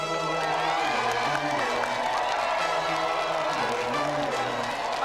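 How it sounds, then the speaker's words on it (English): A large television studio audience applauds and cheers continuously, with whoops rising above steady clapping throughout. "let's give another round of applause"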